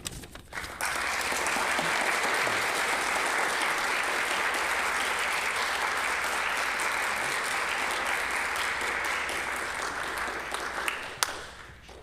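Audience applause after a farewell speech at a scholars program senior symposium, sustained, steady clapping from a large crowd lasting about ten seconds before stopping abruptly.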